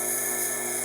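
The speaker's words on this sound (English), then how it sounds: "I'm using a 600 grit CBN wheel, which is kind of my normal for" A knife edge ground on a 600 grit CBN wheel, a steady high-pitched whine of the spinning wheel with grinding noise, continuous and close throughout a brief moment.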